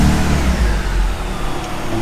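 A BMW G-Power car engine with a newly fitted exhaust revs up close and loud, a deep rumbling roar that holds steady for about two seconds with no talking.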